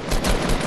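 Rapid gunfire from a weapon in the video game Fortnite, Blitz solo mode: a dense, continuous burst of shots lasting under a second, loud and close with no talk over it.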